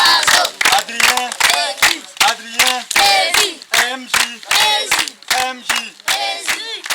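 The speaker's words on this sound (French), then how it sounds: "Donc on applaudit pour le projet." A crowd at an outdoor rugby project event in Burkina Faso claps in loud rhythmic bursts, with whoops and chanted shouts over the hands. Voices call out names.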